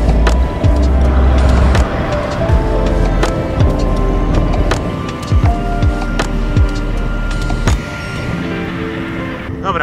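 Cars, including an Audi and a BMW, pass a cyclist riding a gravel bike on an asphalt road, a loud continuous rush of engines and tyres with wind buffeting close to the microphone and several whooshing passes.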